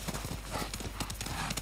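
Horse hooves clip-clop steadily on the ground in the samurai game Ghost of Tsushima, a quick rhythmic trot heard close up over a low ambient background.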